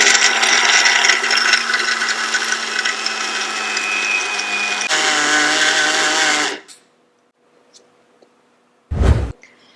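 A mixer grinder loudly blitzes the dry ingredients of a homemade energy booster drink into fine powder, running steadily for about six seconds, then briefly pulsing again after a pause.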